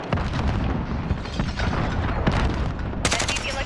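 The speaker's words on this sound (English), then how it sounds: "Allied cruise missile away." Sustained heavy explosions and booming blasts from an allied cruise missile strike in Call of Duty Modern Warfare, loud and dense throughout with a fresh burst of crackling impacts near the end.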